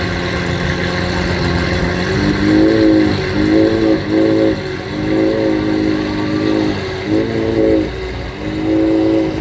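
A powerful hypercar engine rumbles loudly at close range, revving up and down in repeated surges over a steady idle.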